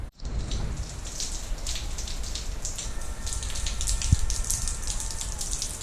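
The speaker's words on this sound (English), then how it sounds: "Got stuck in the rain." Steady rain pours down in Long Island, New York, a dense, even hiss of drops on surfaces that holds for the whole stretch with no voices.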